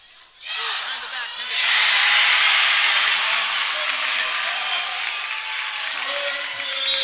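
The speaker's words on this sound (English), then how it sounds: "So the crowd erupts in." Crowd at a high school boys varsity basketball game bursting into loud sustained cheering that swells and holds, with an announcer's voice faint underneath.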